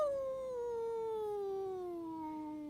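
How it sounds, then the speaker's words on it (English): A creature from a custom-designed Dark Souls 3 boss lets out a single long, falling howl, clear and sustained for nearly three seconds with no talking over it. "That is such a zesty howl"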